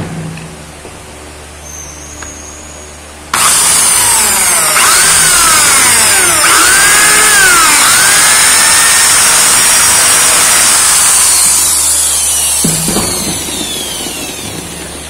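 A power drill bores a hole for a homemade spear gun, starting abruptly after a quiet room hum and running loud and steady for about nine seconds with shifting whine as the bit bites, then winding down.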